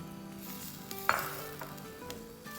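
Chopped onions softening in hot oil in a pan on a medium-high flame for a keema kachori filling, a steady close sizzle with a sharp burst and brief stirring scrapes partway through, no voices.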